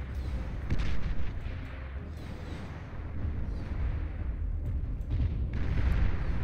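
Dense artillery barrage in the strategy game Beyond All Reason: a continuous low rumble of overlapping booms and blasts, steady and heavy throughout, with a few sharper hits standing out near the start and end.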